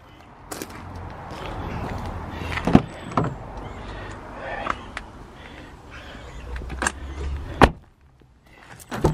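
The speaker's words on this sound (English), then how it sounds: "Electric windows all round" Electric windows on a Kia Sportage 2.0 AWD KX-2 automatic moving with a brief motor whine, alongside interior clunks and thumps, heard up close in the cabin.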